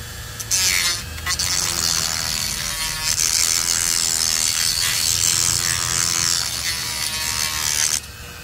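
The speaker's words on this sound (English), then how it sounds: "using the Dremel again, I'm just going to reduce the size very slightly" A Dremel rotary tool grinds down plastic door panel pins from a Ford, a loud, continuous high whine with slight pitch shifts, starting abruptly and cutting off near the end, nothing else heard.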